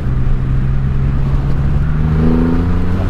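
A fast motorcycle nicknamed The Rocket, its engine note climbing as it accelerates under a rider, with a loud low drone and a pitch that rises steadily, close up over wind rush.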